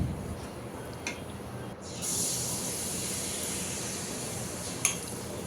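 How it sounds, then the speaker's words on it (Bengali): Oil pitha batter made from wheat flour frying in hot oil, a steady close sizzle with hissing, brief louder spatters partway through, and no voices. "কয়েকটা তেলের পিঠা ভেজে দিচ্ছি"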